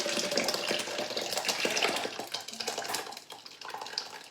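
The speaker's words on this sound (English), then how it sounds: "pour the hot marmalade into a jug first before you pour them into the jars" Hot marmalade pours from a pan into a jug in a home kitchen, giving a loud close splashing, gurgling stream that thins and breaks into softer drips and clinks toward the end.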